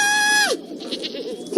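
Goats at an animal sanctuary, a single drawn-out bleat that bends downward at the end, loud and close, followed by softer murmuring and chatter.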